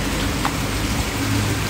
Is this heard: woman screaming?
no